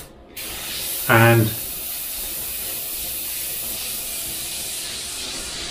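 An airbrush sprays thinned coffee as a steady, loud hiss lasting the whole clip, with a short low burst of sound near the start.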